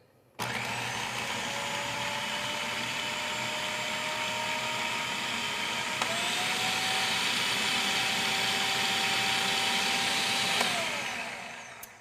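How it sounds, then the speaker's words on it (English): A food processor runs continuously while emulsifying ingredients, switching on abruptly into a loud, steady whirring motor drone with pitch shifts midway and near the end before it winds down, with no talk. "we're going to turn the machine back on until this is completely incorporated"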